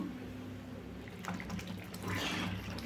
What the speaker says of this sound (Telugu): చూడండి బాగా ఉడుకుతుంది.